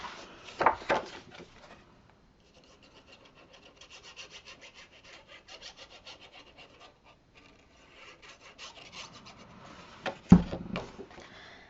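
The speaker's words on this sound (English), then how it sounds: "We're going to go ahead and burnish our score lines." Score lines on paper for a Simple Stories frame album being burnished: dry, papery rubbing strokes in repeated runs, close and fairly quiet, with a couple of sharper knocks near the start and end. No one talks.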